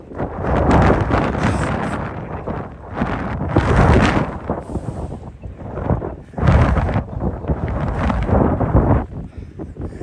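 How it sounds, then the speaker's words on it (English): Strong gusts buffet the microphone outdoors in New York, loud rumbling roars rising and falling in waves with brief lulls between them. "The wind has gotten progressively worse as we've been live"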